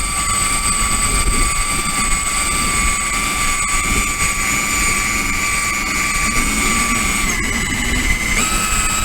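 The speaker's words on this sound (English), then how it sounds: "I'm going to try to buff this area right here in between the two so you can see what will shine and what won't." A buffing wheel running at about 1,000 to 1,400 RPM polishes the plastic gas tank of a 1985 ATC250R, producing a loud, continuous whine with steady tonal hum and rough friction noise throughout.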